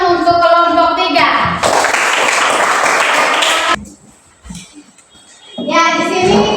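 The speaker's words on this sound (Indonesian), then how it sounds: "Ya, kita tepuk tangan untuk kelompok 3." A school class applauds for group 3, a dense burst of clapping lasting about two seconds, loud and close, with children's and a teacher's voices around it.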